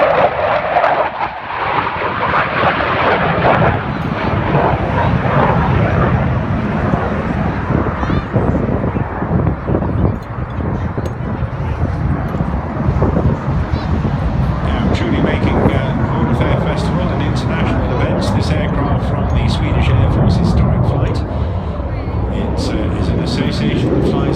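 Historic aircraft fly past at the 2019 Bournemouth Air Show, a loud sustained engine roar that swells and shifts as they pass, with wind buffeting and a voice talking over it.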